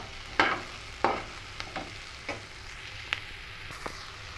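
Chillies being sautéed in a pan for a simple chutney, with a low sizzle under several sharp scraping stirs of a spatula at irregular intervals, close and fairly quiet with no talking.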